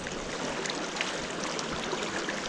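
Water pours over a creek spillway in a steady, even rushing hiss, close and continuous with no pauses and no voices, on a cold, brisk morning.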